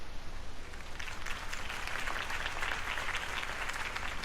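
Crowd applauding at a Harvey Dent campaign rally in the Batman Telltale Series game, a continuous dense roar of clapping held steady throughout, fairly distant and moderately loud.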